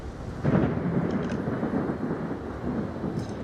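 A thunderstorm rumbles in the naval battle game World of Warships, a low rolling thunder swell over a continuous wash of rain and wind, with no voices.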